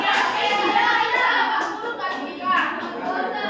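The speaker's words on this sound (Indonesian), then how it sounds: "Kalau kau suka hati tepuk tangan." Children in a classroom clap their hands through an icebreaker song, with the clapping merging into a steady, noisy wash of young voices singing and calling out together.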